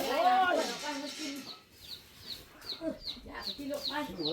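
A chicken clucks in a series of short calls, fairly close, over and after a person talking.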